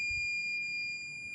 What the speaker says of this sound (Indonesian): Ya, buzzer berbunyi